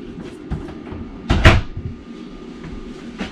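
A closet door in a 2020 Palomino Puma 31FKRK RV camper is opened, giving one close, short clunk over a low background hum.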